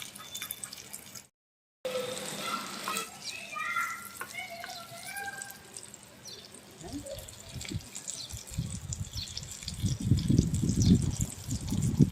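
Fish fries in hot oil with a steady sizzle and crackle that swells louder toward the end, while softer kitchen clinks and drips sound nearby early on.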